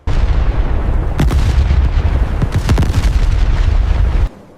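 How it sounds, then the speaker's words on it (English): Gunfire and bullet impacts tear into the surf during a D-Day 1944 beach landing, a loud continuous roar of blasts and thuds with several sharp cracks standing out before it suddenly drops away. "You can hear the terrifying, distinct zip and thud of high-velocity rounds tearing through the surf."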